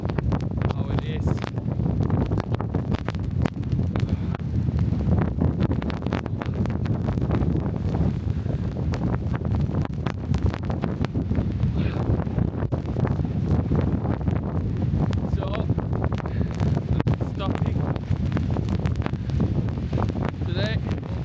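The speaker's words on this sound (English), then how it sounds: "The wind is from east north." Wind roars steadily through a snowstorm at a road construction site, a constant loud buffeting rush that strikes the microphone throughout, while brief faint talk surfaces here and there.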